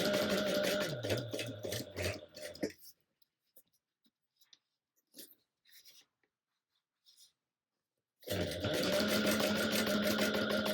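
Sewing machine stitching lining pieces at a 3/8-inch seam, a close steady mechanical whir that stops for several seconds of faint fabric handling and small taps, then starts up again.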